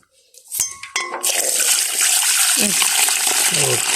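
Water pours steadily and splashes into a container to wash fish, a continuous rushing broadband sound after a few brief clatters at the start.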